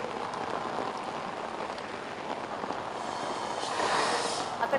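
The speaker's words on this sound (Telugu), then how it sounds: "ఉరుములు మెరుపులతో కూడిన వర్షం ఇంకా భారీగా హైదరాబాద్ నగరంలో కురుస్తున్న పరిస్థితి" Heavy rain falls across Hyderabad during a thunderstorm, a dense continuous wash of drops that swells louder toward the end; no distinct thunder clap stands out.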